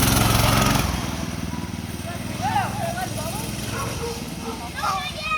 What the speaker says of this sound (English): There goes my brother off on the mini bike.